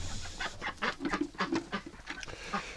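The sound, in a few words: wintering ducks in a coop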